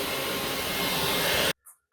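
A self-emptying vacuum cleaner with a green dust-spotting light runs steadily with a loud, even whooshing roar close by, then cuts out abruptly near the end with a brief blip before restarting.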